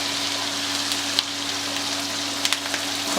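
Carrots and spinach sizzle together in a hot pan in a restaurant kitchen, a steady close frying hiss broken by a few sharp crackles and pops, with a faint hum underneath and no voices.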